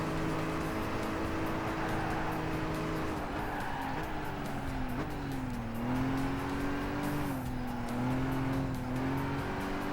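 Race car in Gran Turismo 5 during a Polyphony Digital Championship race, a continuous engine drone rising and falling with gear shifts and tire noise, mixed under background music.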